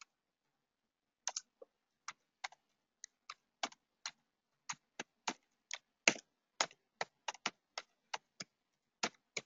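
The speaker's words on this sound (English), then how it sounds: "I'm just typing my email here." Typing on a computer keyboard during a live market trading webinar: a quiet run of distinct key clicks in irregular bursts, sparse at first and then steady and close, with no talking.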